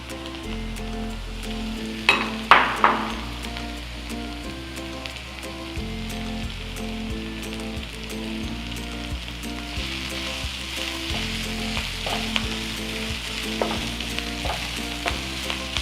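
Chopped coriander leaves and curry leaves sauté in a hot oiled pan with ginger and garlic for a Kerala-style prawn roll, giving a steady close sizzle with a few sharper crackles and spatters, no voices.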